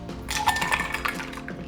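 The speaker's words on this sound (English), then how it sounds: "Now I'm gonna pour it into the cocktail glass." A persimmon mojito is poured from a shaker into a cocktail glass, heard as a short burst of clinking and sloshing that lasts under two seconds, with no voices.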